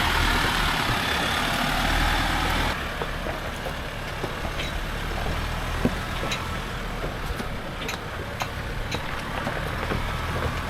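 A Toyota 2.8 litre 1GD diesel in a 79 Series runs steadily while towing a Jayco Expanda caravan through the Victorian High Country, giving a continuous low rumble with cab and road noise, slightly quieter after the first few seconds.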